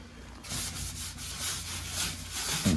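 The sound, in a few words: scrubbing oven surface with Scotch-Brite pad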